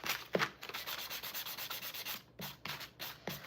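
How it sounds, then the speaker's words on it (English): A sanding block scuffs the edges of a handmade Christmas wreath bow, making quiet rhythmic rubbing strokes with brief pauses between passes. "So I just take my sanding block and I just kind of scuff up the edges a little bit."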